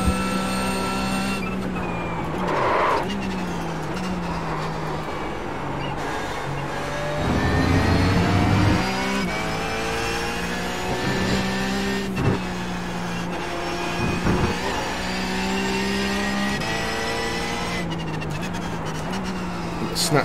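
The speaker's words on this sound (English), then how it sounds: "Snatched both brakes into the corner at the end of the straight there" A Porsche Cup race car in the iRacing game at Road America brakes hard into a corner at the end of a straight, engine note dropping through downshifts with tyre scrub, under steady running engine drone.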